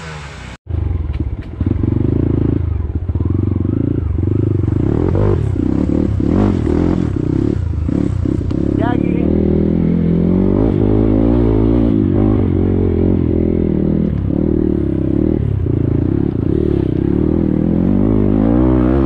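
Enduro motorcycles ride and rev close by in a steady, loud buzzing roar, with repeated throttle blips and rising revs, plus occasional clattering and scraping over rough terrain.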